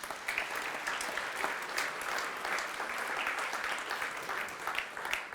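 Audience applause at a gathering, a dense, steady wash of many hands clapping at moderate distance, holding evenly for several seconds with no talking over it.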